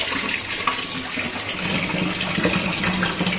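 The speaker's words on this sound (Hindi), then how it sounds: "तो अभी ना अम्मी जी इसमें पानी जो है वो डाल रही हैं" Water gushes steadily into a cooking pot holding washed, cut pieces of meat, a close, continuous pouring splash that deepens in tone as the pot fills.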